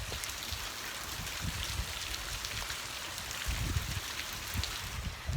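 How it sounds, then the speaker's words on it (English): Steady rainwater pouring off a roof without gutters, splashing and spattering onto a hard surface below, a continuous wet patter with occasional heavier splashes, close by. "here's water coming off the roof"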